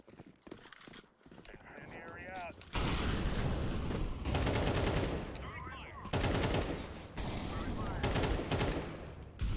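Rapid automatic gunfire bursts from Counter-Strike 2 on the Anubis map ring out loud and close in several sustained volleys, with voices talking over and between them.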